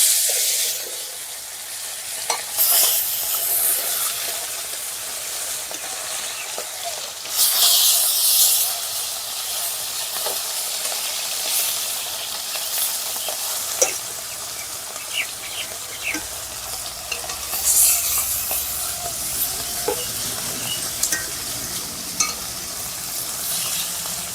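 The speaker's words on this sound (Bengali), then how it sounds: "বাকি মাছগুলো ভেজে নেবো" Bata fish fry in hot oil in a pan with a continuous loud hissing sizzle and bursts of steam. Scattered pops and light utensil clicks are spread through the steady frying.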